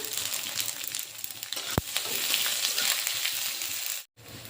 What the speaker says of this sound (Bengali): ফোড়নে পাঁচ ফোড়ন দেবো পাঁচ ফোড়ন দিয়ে দিলাম